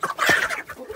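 Chickens cluck busily at close range, a rooster's call mixed in with the flock's chatter, loud and continuous for a moment.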